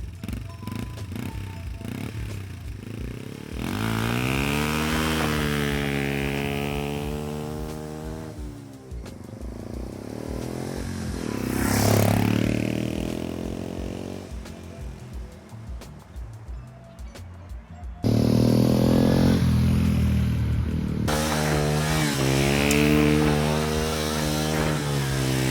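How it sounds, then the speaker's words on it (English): Yamaha TW 125 motorcycle ridden off-road, its small single-cylinder engine revving up and down through gears, rising and falling in pitch, sometimes close and loud, sometimes easing off, with wind rushing across the microphone. "So now out on this little bike, the Yamaha TW 125"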